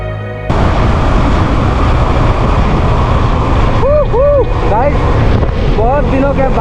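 Motorcycle ridden fast on an open road past 100, a steady loud roar of engine and wind buffeting that runs throughout, with a voice talking over it partway through.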